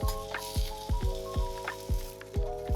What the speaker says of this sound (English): get a pan. Keep the heat running and place down a slice of bacon.